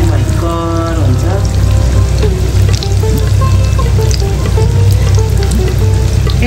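Sel roti batter fries in hot oil, a loud continuous sizzle with bubbling and occasional stirring scrapes, steady throughout with no talking.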